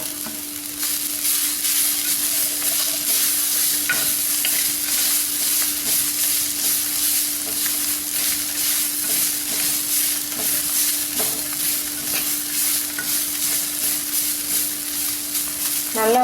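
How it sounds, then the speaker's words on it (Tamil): Coconut sautéed and stirred in a pan for a broccoli and cauliflower kurma: a long, even hiss of frying, close and fairly loud. Faint scattered scrapes from stirring run through it, and nobody speaks. "இப்போ தேங்காயை சேர்த்து வதக்கிக்கலாம்."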